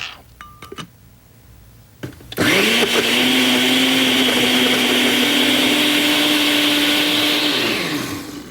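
A blender starts up after a few clicks and roars loudly and steadily for several seconds, blending a sauce of cilantro, avocado, garlic, olive oil, mayo and lime juice, before winding down.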